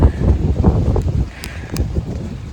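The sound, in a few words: gust of wind in a tree stand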